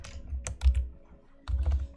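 Typing on a computer keyboard, bursts of quick clicking keystrokes close by, pausing briefly mid-way before resuming, with no talking.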